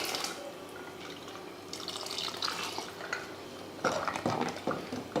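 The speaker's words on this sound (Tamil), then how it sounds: "லைட்டாக ஒரு கரண்டி வச்சு மசித்து சேர்த்துக்கோங்க" A ladle mashing cooked vegetables and dal in a pot, soft wet squelches and metallic clinks against the pot, with sharper clattering bursts toward the end.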